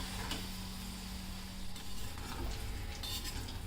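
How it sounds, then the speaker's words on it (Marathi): Green chillies frying in oil for poha chivda, a soft, continuous sizzle with occasional scraping stirs and light utensil taps, quiet and close, with no voices. "मिरची ना चांगली कुरकुरीत तळून घ्या तुम्ही"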